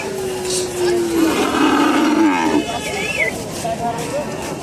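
A Gir cow at a cattle market gives a long, drawn-out moo up close, loud and wavering, with crowd noise and other livestock calls around it.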